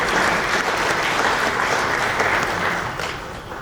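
An audience at a football press event claps for African women's football, a dense, steady wash of hand clapping from a crowd, loud and continuous before tapering slightly at the end.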